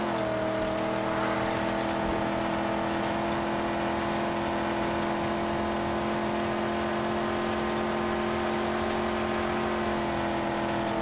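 A car engine roars in the Mad Max video game, a loud sustained drone with steady harmonics over several seconds. The pitch dips slightly at the start and then holds, with no talk.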